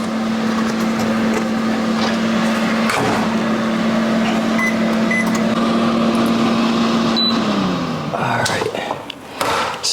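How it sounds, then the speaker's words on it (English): Microwave oven heating ground turkey, a steady electrical hum droning for about seven seconds before winding down, with faint clicks and handling noise as it stops. "I'm gonna go ahead and toss this in the microwave to heat this up"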